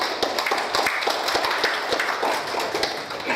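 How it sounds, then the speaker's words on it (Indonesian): An audience at a Hutama Karya company gathering applauds Coach Agung, a dense run of sharp, fairly loud claps continuing steadily for several seconds. "Tepuk tangan yang meriah buat Coach Agung"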